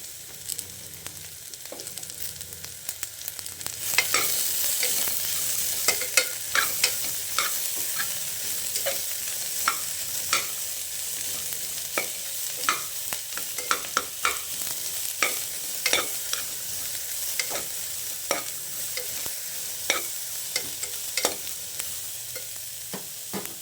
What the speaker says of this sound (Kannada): ಈರುಳ್ಳಿನೂ ಅದ್ರ ಜೊತೆಗೆ ಫ್ರೈ ಆಗುತ್ತೆ.